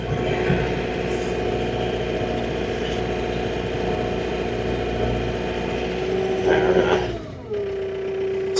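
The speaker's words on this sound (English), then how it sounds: "We're just gonna drive it down the road for a second, shut it off, and then start it back up and start driving again" A John Deere tractor engine runs while driving down a road, a steady mid-pitched hum that dips near the end as it slows and settles to a lower idle tone, with no speech.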